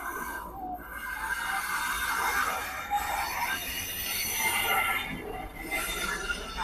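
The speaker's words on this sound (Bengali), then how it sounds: "গাইস এই যে রেল" A cargo train passing on a railway, heard from below the track: a sustained rumble of wagons with high metallic wheel squeal rising and fading over several seconds, loud and close, with no voices.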